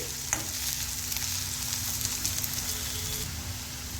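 Onions frying steadily in a pan, a continuous soft sizzle with faint stirring scrapes, close and even throughout.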